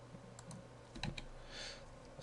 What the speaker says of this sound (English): Started typing in Dog Track Road.